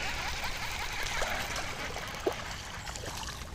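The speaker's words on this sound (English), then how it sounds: "when you got that little oxygenated fountain deal going on" Water trickles steadily from a small oxygenating fountain in a bass fishing pond, a soft continuous outdoor babble heard alone with one faint splash midway.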